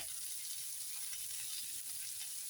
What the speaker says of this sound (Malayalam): റോസ്റ്റ് ചെയ്ത എണ്ണയിലോട്ട് നമുക്ക് സവാള ക്യാപ്സിക്കം വെളുത്തുള്ളി ഇഞ്ചി മല്ലിയില കറിവേപ്പില